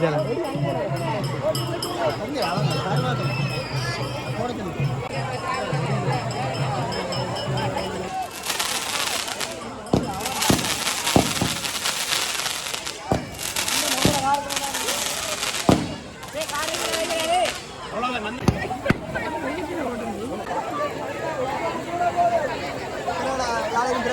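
Firecrackers crackle and bang in loud rapid bursts at a Tamil temple festival in Jaffna with a burning palm, over a crowd's constant chatter, several sharp pops standing out between the volleys.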